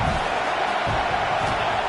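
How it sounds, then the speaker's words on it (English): A large stadium crowd at a college football game roars in a dense, continuous wash of noise, with indistinct voices blending into the steady din. "This crowd bringing the energy and noise early."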